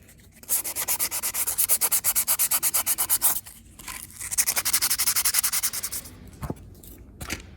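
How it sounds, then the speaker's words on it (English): Stainless steel is hand-sanded before gluing during a bilge overhaul on a Hallberg-Rassy 312 sailboat, a fast, rhythmic rasping of quick back-and-forth strokes, loud and close, pausing briefly before a second burst and a few scrapes. "You need to sand the stainless steel, if not, doesn't stitch with the glue."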